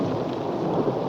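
A thunderstorm from the 1980 film Friday the 13th fills a brief moment with rolling thunder over steady falling rain, loud and dense.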